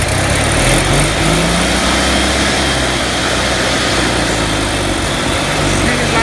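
An Onan generator engine cranks and runs loud and steady up close, a continuous droning hum that holds without a clear cutoff.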